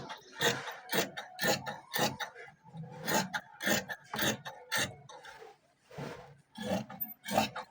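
Scissors cut through fabric for a mkhawar dress in a steady series of crisp, rasping snips, close and fairly loud, with brief pauses between runs of cuts.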